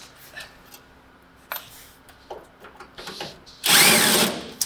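Power drill zipping screws off a 1946 Chevy truck during a rat rod teardown, with short whirring bursts between handling noises and a louder, longer run near the end.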